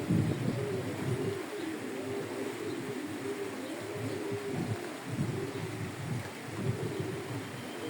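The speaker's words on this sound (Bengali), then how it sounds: "কবুতর ফ্লাইং করলাম, এখনই ছাড়লাম কবুতরগুলা" Pigeons coo repeatedly after release on a rainy morning, steady soft rain hissing throughout beneath the overlapping close calls.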